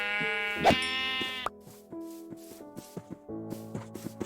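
Sheep in the video game Minecraft bleat in a long nasal call, followed by a string of short, sharp game sound effects at an uneven pace.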